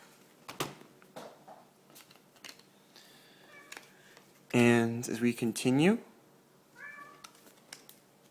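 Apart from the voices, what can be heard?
cat meowing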